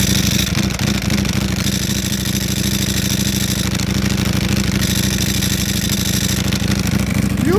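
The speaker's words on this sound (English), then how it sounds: "you know you love the sound of that dry clutch" A Ducati Panigale V4 R engine idles close and loud with the rapid, metallic rattle of its dry clutch chattering steadily throughout, with slight swells in the revs.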